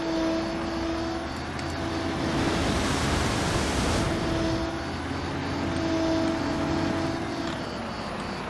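A UFO flies in the video game Construction Simulator 22 with a steady, broad whooshing hum and faint tonal whines, swelling slightly in the middle before settling. No one speaks.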